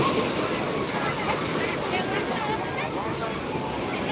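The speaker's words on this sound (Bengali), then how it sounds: "আজকের ঢেউটা খুবই উত্তাল হ্যাঁ ঢেউ উত্তাল রয়েছে" Rough sea waves breaking at Old Digha beach under dark clouds, a continuous broad roar of surf mixed with wind buffeting the microphone, close and loud with no clear pauses.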